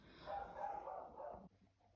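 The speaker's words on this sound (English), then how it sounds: "oh, there goes my dog" A neighborhood dog barks at people walking past, one drawn-out bark or yowl lasting over a second before cutting off, faint and somewhat distant.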